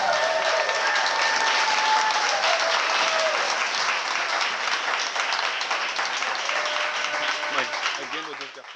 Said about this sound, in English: Let's give them a big cheer, everybody.